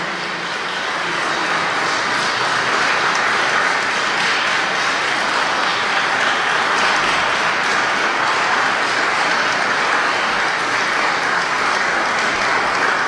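Dense, steady applause from a concert audience welcoming two musicians at a March 2021 event in Yambol, a broad wash of many hands clapping loudly and continuously throughout.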